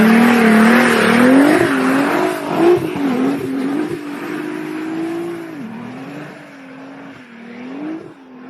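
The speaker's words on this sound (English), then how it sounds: "Now I want to show you amazing drift in the snow." A Nissan GT-R drifts on snow, its engine revving loudly and wavering while the tires hiss and squeal, steady and close throughout.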